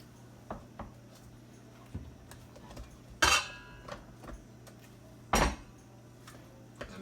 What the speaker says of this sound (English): I like to mix the rest by hand.